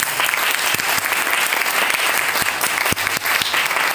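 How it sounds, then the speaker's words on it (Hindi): Loud, dense applause from an audience at a wellness company motivational event, many hands clapping steadily and close, with a few sharper individual claps standing out and no speech over it. "आपके लिए मैं खुद आपके लिए एक बार जोरदार तालियां"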